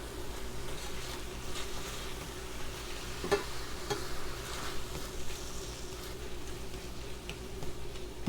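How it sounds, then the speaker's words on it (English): Seasoned food, sprinkled with salt and fresh cracked black pepper, is stirred in a hot pan, giving a steady soft sizzle with light scraping and ticking of the utensil throughout and a couple of sharper clicks. "Stir it up a little bit."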